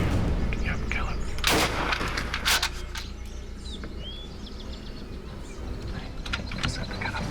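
A shotgun blast fired at an eastern longbeard turkey on a Missouri opening-day hunt, one loud outdoor report followed by a second boom, with birds chirping and faint voices around.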